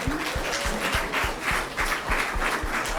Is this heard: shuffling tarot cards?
no